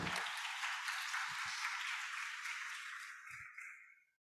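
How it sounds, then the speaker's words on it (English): Audience applause at an international academic conference, a dense sustained wash of clapping that holds steady for about three seconds, then thins and fades out, with a few low thumps underneath. "Please give a big applause."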